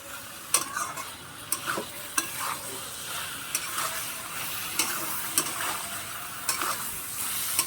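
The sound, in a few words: stirring flat beans frying in a pan with mustard paste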